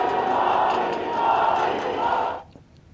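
A large crowd gathered to greet Prime Minister Modi roars and shouts together in a dense, continuous outdoor din that stays loud, then drops away suddenly near the end.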